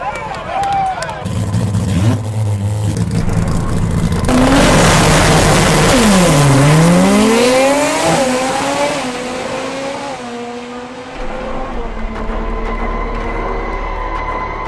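A two-rotor rotary drag race car makes a clean pass on a cool night at a sport compact drag event, its loud, high, rising engine wail climbing and falling with shifts while a commentator talks over it.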